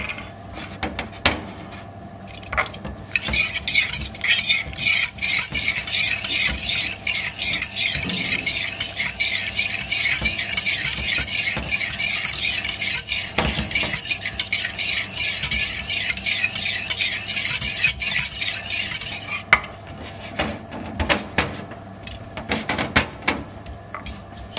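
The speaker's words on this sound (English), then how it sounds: "We're going to start whisking in the butter" A whisk stirs butter into a dill butter sauce for seabass in a steady, continuous scraping rhythm against the pan, loud and close, with faint sizzling beneath and brief clinks near the end.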